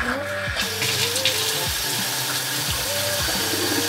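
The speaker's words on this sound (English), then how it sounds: "I'm going to turn the water on for the first time." Water gushes steadily from a newly installed bar faucet into a basement bar sink, a continuous close splashing rush with some sputtering and tonal gurgles as air clears from the line.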